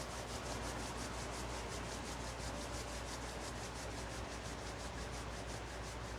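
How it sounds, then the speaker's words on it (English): Hands rub briskly together during a chair yoga session, a steady close dry swishing that runs unbroken for several seconds with no voices. "And then rub your hands together."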